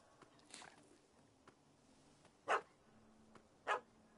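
Two sharp, separate dog barks ring out about a second apart in The Witcher video game, moderately loud over a quiet ambient background with a fainter yelp earlier.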